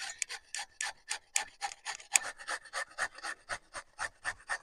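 Halved beetroot rubbed on a grater while colouring apple pitha, a series of quick, uneven scraping strokes close by, moderately quiet, with no voices.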